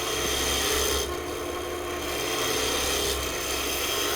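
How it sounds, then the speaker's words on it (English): A carbide-tipped tool cuts into wood spinning on a lathe while turning a bottle stopper, making a steady scraping, rasping hiss with a low rotational hum that briefly softens and resumes, close up with no voices. "aggressive that carbide tip tool is. It's just a monster, man. It takes that wood off like crazy."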